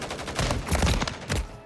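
Sniper rifle gunshots from the Modern Warfare III video game arrive as a quick cluster of loud, sharp, broadband bangs over about a second and a half, with no voices.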